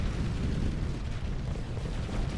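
Gunfire and explosions in the strategy game Ground Control 2, a continuous, loud rumbling wash of blasts and distant shooting with no clear individual shots, steady throughout.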